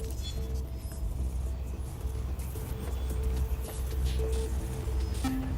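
Truck and street traffic picked up by city street cameras in the Watch Dogs: Legion video game, a muffled mid-level rumble of road vehicles with brief tonal blips, under speech.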